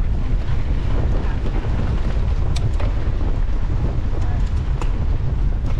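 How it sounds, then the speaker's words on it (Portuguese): Strong gusting wind buffets the microphone on a dirt trail during a Sertão Diamante 2024 off-road trail ride, a constant loud low roar filling the whole span with brief faint crackles on top and no talk. "Que vento doido!"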